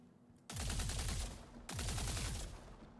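Energy weapon firing in the Star Citizen video game, two sustained bursts of rapid rhythmic shots, each lasting about a second, loud and close, with a short gap between bursts and no talk.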